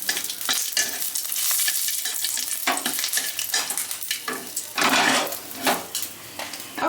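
Black mustard seeds and curry leaves crackle and sizzle in a pan while a utensil stirs and scrapes against the metal, close up, with busy popping bursts and no talking.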